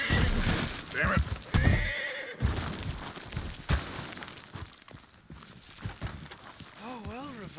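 Hoofbeats of a horse in a video game rattle on amid loud whinnies, ending in a clear rising-and-falling neigh, while someone talks over parts of it.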